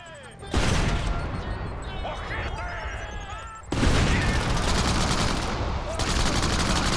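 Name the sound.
shotgun and grenade fire in video game Crackdown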